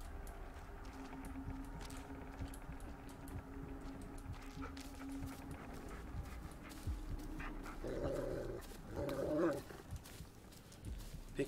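A dog in the Blair Witch video game makes low growls and snuffling sounds over rustling ambient game noise, with a couple of louder growling bursts near the end.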